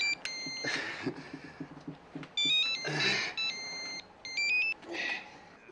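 A mobile phone rings with a repeating electronic melodic ringtone in three bursts, while people talk around it in a Turkish TV scene.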